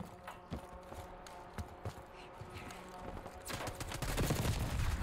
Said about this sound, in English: And then I get shot in my back.